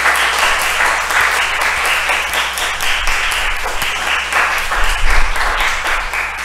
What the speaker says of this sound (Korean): 하나님께 박수로 영광 돌립니다.